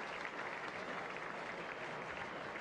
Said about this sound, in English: The crowd standing to Edrich as he leaves the field.